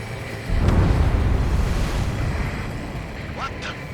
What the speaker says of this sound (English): A huge explosion just went off underwater.